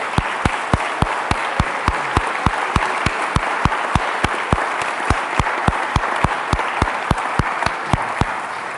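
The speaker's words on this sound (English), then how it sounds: "give you a hearty applause" A church congregation applauds the mothers standing on Mother's Day, a steady, fairly loud wash of many hands clapping with sharp individual claps scattered throughout, no talking.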